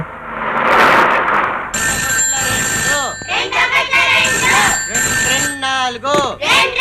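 A telephone rings with steady electronic tones while people talk loudly over it; a burst of noisy commotion comes first.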